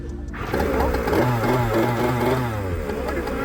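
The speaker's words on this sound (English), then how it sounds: "So the moment you pull this magnetic key switch into the socket over here, in about 3 seconds the engine starts." A jet surfboard's engine starts after a magnetic key switch is inserted, then holds a loud, steady motor drone close by with rising revving tones throughout.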